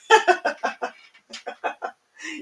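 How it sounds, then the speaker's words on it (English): A rooster gives a quick run of sharp, close clucks in two bursts, followed by a drawn-out, lower call. "I love the rooster."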